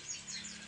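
An oriental magpie-robin (kacer) gives a brief burst of faint, high chirps, heard alone and at some distance.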